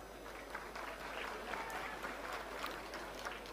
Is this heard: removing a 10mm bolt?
no